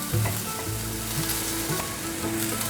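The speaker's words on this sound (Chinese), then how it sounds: "现在来调味，放入适量的黑白胡椒、玫瑰盐，把调味料炒匀" A hot pan stir-frying black and white pepper with rose salt gives a steady close sizzle, with spatula scrapes and stirs over the hiss and no talking.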